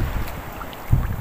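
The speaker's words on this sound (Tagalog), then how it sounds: "Maririnig mo lang dito yung alon. Saka yung hangin." Sea waves and wind at a quiet rocky shore: low rumbling wind buffeting with a soft wave surge near the end, brief and moderately loud, no voices.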